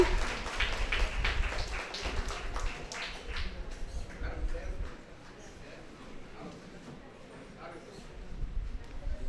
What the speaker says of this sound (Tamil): எல்லாரும் நல்ல ஒரு பெரிய கரகோஷ கொடுங்க